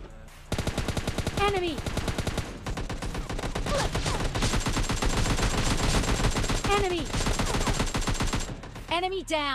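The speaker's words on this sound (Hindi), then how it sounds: "भाई चारों तरफ से फायरिंग की आवाज़ आ रही थी" Heavy automatic gunfire crackles from every direction in PUBG Mobile Lite, with dense rapid bursts running almost continuously at close range and a few whistling tones layered over the shots.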